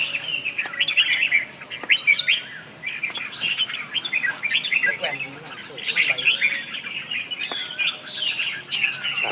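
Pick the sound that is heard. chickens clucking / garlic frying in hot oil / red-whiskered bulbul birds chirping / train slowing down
red-whiskered bulbul birds chirping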